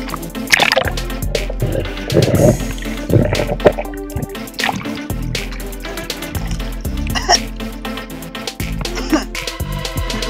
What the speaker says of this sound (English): Water went in my snorkel. The snorkel got full of water.